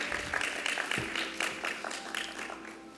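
An audience applauds at a pinning ceremony, a soft, fairly distant wash of clapping with a voice speaking over it.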